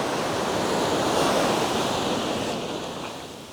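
Waves breaking and washing on Thomas Beach in Bali, a continuous broad roaring surf with some wind noise, fairly loud and steady, easing slightly toward the end.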